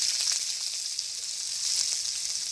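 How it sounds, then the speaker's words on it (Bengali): Onion and chili dropped into hot oil, a bright steady hiss of sizzling, close and unbroken for a couple of seconds with no voices. "একটু তেল, এখন পেঁয়াজ আর মরিচটা দিয়ে দিতেছি"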